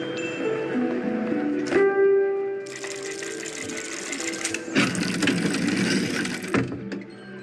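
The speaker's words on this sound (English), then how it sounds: "The motor has started up" A machine motor starts up and runs in the Syberia The World Before video game, giving a rapid mechanical whirring and clattering with tonal hums, loud and close, shifting in texture as it keeps running.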